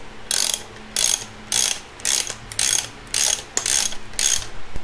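Socket wrench ratcheting down a 22 mm fork bolt on a Yamaha XSR700 motorcycle during an Ohlins fork kit install, in seven close, loud bursts of rapid clicking separated by short pauses, with no talk.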